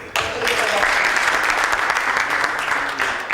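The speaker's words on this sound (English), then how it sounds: "Could you please give an applause to our leaders, please?" Audience applause for the leaders at a café gathering, a dense, steady wash of many hands clapping that starts abruptly and holds loud and even for about three seconds, with no talk over it.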